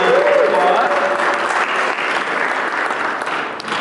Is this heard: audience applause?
yes